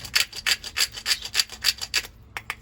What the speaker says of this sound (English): make sure you deburr the pipe